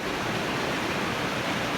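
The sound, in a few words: waterfall on Pine Creek trail, Montana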